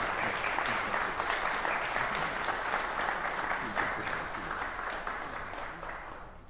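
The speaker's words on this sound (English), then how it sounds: "Please give a strong applause to our guest artists" A masterclass audience at a trumpet festival applauds the guest artists with full, continuous clapping from a crowd that gradually fades toward the end.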